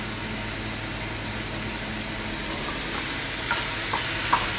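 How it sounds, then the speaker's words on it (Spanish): Chicken sizzles steadily in a hot pan for a Peruvian empanada filling, a dense, even frying hiss close up with a few small pops and clicks toward the end. "Acá vemos que el pollo se está cocinando."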